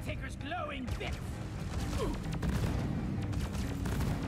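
Gunfire poured at the Caretaker boss in Deep Rock Galactic, a clattering stream of shots and impacts under a busy layer of game voices and chirpy effects, steady and moderately loud.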